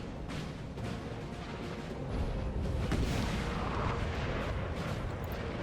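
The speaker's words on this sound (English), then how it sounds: "We got Austrian artillery down here." Austrian artillery firing in a Napoleon: Total War battle at Castiglione, a dense broadband rumble of distant booming cannon fire that swells louder midway and holds as a continuous roar, with no voices.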